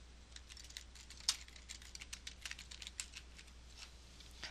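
Keys clatter on a computer keyboard in a quiet room, a steady run of light, quick clicks with one sharper tap near the start, no voices over it.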